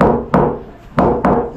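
Three hollow knocks on a wooden boat hull checked for rot, close and loud, each thud ringing out briefly, with a longer pause after the first.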